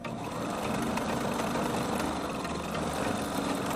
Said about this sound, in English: Now I'm going to sew those 3-inch edges, lock my stitch, turn it, sew the bottom edge all the way across,